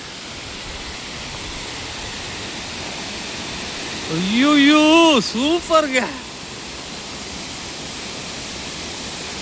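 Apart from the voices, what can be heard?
waterfall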